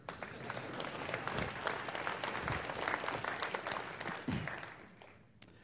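Audience applause for the Runnin' Rebels at a university address, a steady dense clapping from a large crowd that holds strong for several seconds before tapering off near the end.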